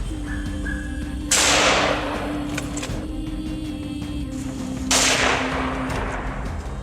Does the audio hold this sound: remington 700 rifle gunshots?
yes